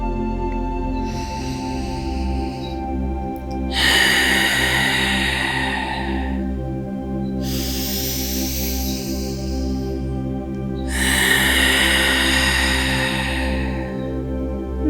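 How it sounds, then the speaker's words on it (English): Slow, deep yoga breaths come through as four long airy exhales, each lasting a couple of seconds with quiet gaps between them, close and clear over a steady low hum. "Continuing to deepen your breath, trying to make each breath longer than the breath before it"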